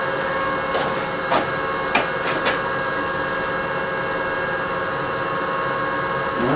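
A newly assembled Bauer lathe runs at 150 RPM with a smooth, steady mechanical hum and whine, broken by a few brief knocks early on.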